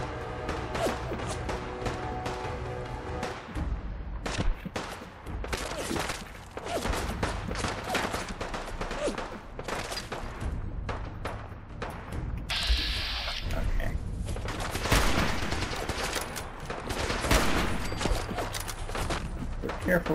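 Rapid bursts of gunfire in Fallout 4, repeated volleys and crashes over about twenty seconds, loud and close with brief lulls between, along with grunting and some voices.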